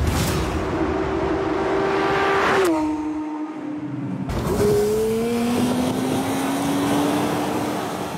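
A road-legal competition-version sports car, 0 to 100 km/h in 3.4 seconds and a 318 km/h top speed, accelerates hard and loud, its engine climbing, dropping through a gear change, then pulling up again.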